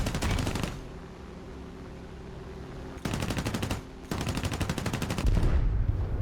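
Rapid machine-gun fire from a plane in a flight combat video game, two dense bursts rattling over a steady engine drone.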